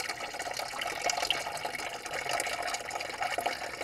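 Coolant steadily draining and splashing from the heat storage tank of a 2009 Toyota Prius into a container, a continuous trickling wash of liquid heard close up with no talking.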